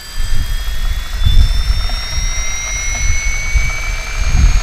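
A Fly Wing FW-450 RC helicopter runs steadily, its rotor and motor giving a continuous loud whir with a high tail-motor whine that slowly rises in pitch, plus pulsing low rotor thumps throughout.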